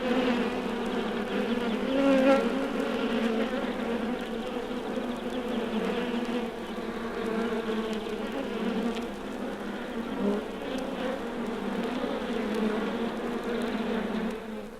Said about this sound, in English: The gentle buzz from an undisturbed hive is one of the pleasantest sounds of summer.